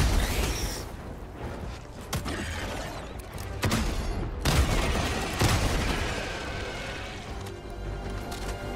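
Gunfire and explosive bangs in the cooperative shooter Helldivers II, scattered shots and heavier booms at moderate, fairly distant loudness, with sharp hits around the middle.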